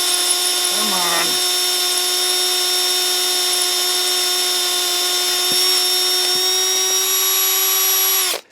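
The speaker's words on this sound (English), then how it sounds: "Left hand drill bit." A drill with a left-hand bit works on a Honda MR50 motorcycle part, a loud steady high whine held for about eight seconds before cutting off abruptly, with a brief voice near the start.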